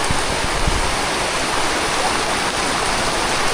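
A loud, continuous rush of flowing flooded river water in Catanduanes, steady and broadband like a nearby stream or weir, with no voices.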